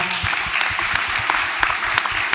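An audience at a health talk claps steadily and energetically, dense applause filling the space without pause.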